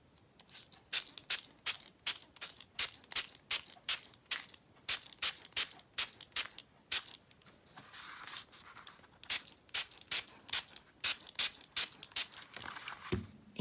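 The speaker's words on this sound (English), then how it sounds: "what I'm going to do is just spray that" Rapid spritzes from a spray bottle, dozens of short sharp hisses in a fairly steady rhythm, close by with no talking.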